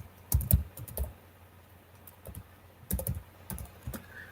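Computer keyboard typing in quick irregular bursts of close, crisp key clicks, separated by short pauses.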